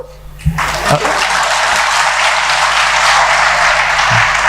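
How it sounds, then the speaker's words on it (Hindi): Listeners at a talk in Hindi break into loud applause after a brief pause, the dense clapping holding steady and close for about four seconds. "ताली मारो"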